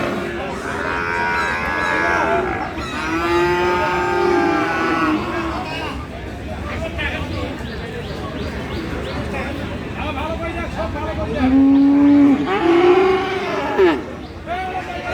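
Cross-bred cattle, Nepali Sahiwal and Holstein Friesian crosses, moo at a busy rural livestock market in Aftabganj, Dinajpur, with several long, loud, close calls rising over a constant crowd murmur and nearby voices.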